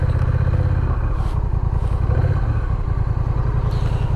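A Honda Rebel 1100 motorcycle rolling in to park, its engine running loud and steady at close range with clattering mechanical noise throughout, no voices.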